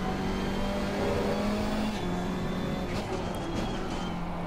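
Race car engine in a racing video game, a steady loud drone that climbs and drops with gear changes between third and second, alone without talk.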